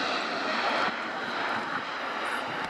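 An Airbus A400M Atlas military transport turboprop performs a flying display at an air show, its engine roar a steady, broad drone held at an even level throughout.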